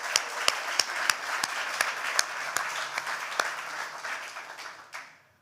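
Audience applause at a startup accelerator demo night, steady clapping from a crowd with sharper individual claps standing out, fading away at the end.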